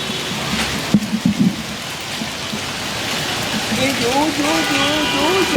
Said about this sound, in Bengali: রাজধানীতে বৃষ্টির সাথে কিন্তু শিলাবৃষ্টি পড়ছে